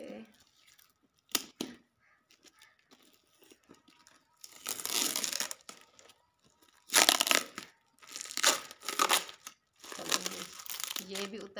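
Tape is torn and packaging crinkled while a heavily taped gift box is opened, coming in short loud bursts of ripping and rustling, with someone speaking between them.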